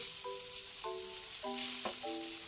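Spices stir-fry in about five tablespoons of vegetable oil in a pan, a steady close sizzle running throughout with faint tonal hums over it.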